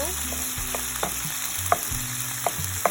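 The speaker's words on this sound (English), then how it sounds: "I'm going to go ahead and saute it for like a minute or 2." Food sautéing in an Instant Pot before pressure cooking, with a continuous close sizzle and a few sharp stirring clicks and scrapes against the inner pot.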